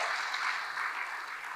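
Congregation applauding during a church service, a steady wash of clapping from many hands at moderate distance, sustained and even without a break.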